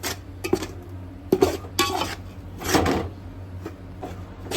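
Gram flour roasting in a pan for flaxseed laddus is stirred with a utensil, giving a few scattered scrapes and clinks of metal against the pan at close range, with quiet gaps between strokes and no talking.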